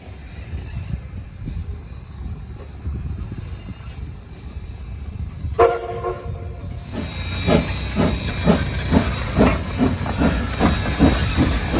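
Cumbres & Toltec railroad steam engines roll past with a rumbling, clanking train passage that grows louder midway, with rhythmic wheel and car noise and a high squeal over steady background hiss.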